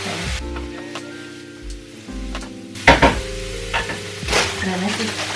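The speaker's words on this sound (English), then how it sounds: "I'm going to move it around a lot so I don't want garlic to burn." Garlic frying in unsalted butter in a pan, stirred often: a bright sizzle with clattering spoon scrapes and a few sharp knocks partway through, close and fairly loud, with no talking.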